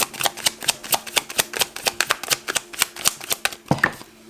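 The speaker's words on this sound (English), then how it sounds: "Let me just pull out a couple more cards on this one." Tarot cards are shuffled and pulled from a deck up close, a quick, rhythmic run of crisp riffling flicks and taps, about twenty in a row, alone and steady.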